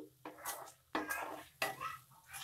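Brinjal and tomato curry stirred in a pan, three distinct scraping, clinking strokes of a utensil against metal, close but fairly soft, over a low steady hum.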